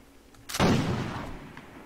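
A single heavy bomb blast fired during a Warsword Conquest battle, with a sudden loud boom and a long rumbling decay that fades over about a second, standing alone without voices.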